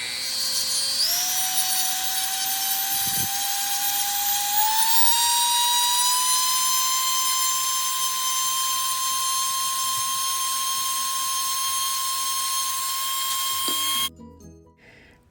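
A high-pitched Dremel rotary tool with a sanding attachment whines steadily for about fourteen seconds, its pitch stepping up as it grinds against a wood block, then cuts off abruptly.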